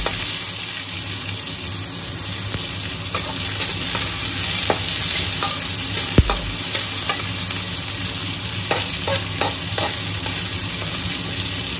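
Onions and cumin fry in a pan with a steady, close sizzle, while a utensil stirs in scattered scrapes and clicks throughout.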